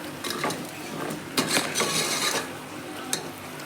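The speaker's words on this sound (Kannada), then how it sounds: "ಮಿಕ್ಸ್ ಮಾಡಿ ಫ್ರೆಂಡ್ಸ್ ಚೆನ್ನಾಗಿ." A spoon stirs khichdi in a pan with coriander powder and rock salt, producing soft scraping and light metallic clinks in an irregular rhythm, close and moderately quiet.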